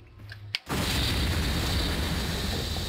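A sudden loud video game explosion in Resident Evil Remake cuts in after a quiet moment, followed by a sustained roaring rumble that stays loud and dense to the end.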